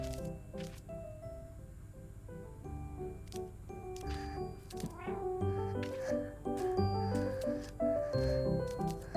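A cat meows and yowls repeatedly at close range, its drawn-out, wavering cries rising and falling over soft rustling in a quiet room.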